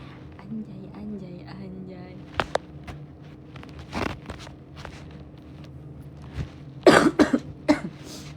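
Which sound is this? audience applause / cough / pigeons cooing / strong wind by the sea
cough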